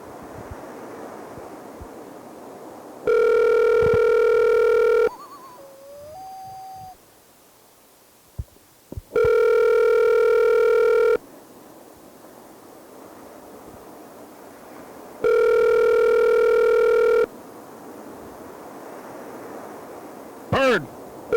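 Telephone line tones ring out as a call comes in to a radio studio program, three loud steady two-second bursts spaced several seconds apart over quiet room noise, with brief sliding electronic blips between them.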